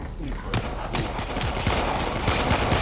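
Gunfire in the Warframe video game aboard a Railjack ship, a dense run of rapid shots and bursts that fill the whole stretch at steady loudness.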